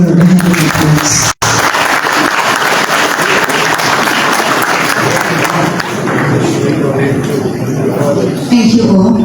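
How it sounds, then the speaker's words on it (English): Sustained, loud audience applause at a Government of Liberia town hall program launch. The dense clapping fills the hall nearly unbroken for about nine seconds, with one brief dropout early on. "Can we please give her a hand of applause?"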